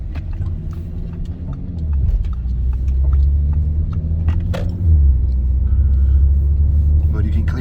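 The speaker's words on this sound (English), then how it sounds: "I can hear the exhaust" Deep, steady rumble of a straight-pipe exhaust heard from inside the moving car, droning continuously with slight swells in pitch as the engine revs shift, with a voice talking over it.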